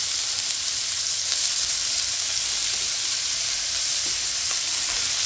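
Chicken meat frying in a pan with vegetables gives a loud, dense, continuous sizzle with faint stirring, close and with no voices.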